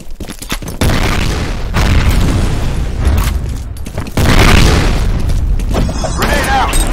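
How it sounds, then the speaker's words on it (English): Grenade blasts in the shooter game F.E.A.R. hit as heavy, loud, rumbling booms in quick succession, with a dense roar of combat around them, and a voice shouting over the noise. "Fire in the hole! Grenade out!"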